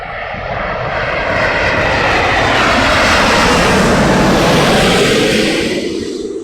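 An American Airlines airliner's jet engines roar at London Heathrow, a loud, broad rushing sound that swells and holds near, then begins easing off as the plane passes.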